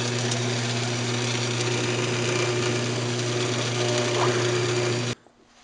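A wood lathe spins steadily while a tenon is turned down on a waste block, a continuous motor hum with faint cutting scrape throughout, close and even, cutting off abruptly near the end.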